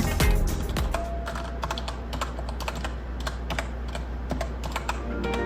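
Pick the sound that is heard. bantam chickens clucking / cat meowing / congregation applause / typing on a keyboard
typing on a keyboard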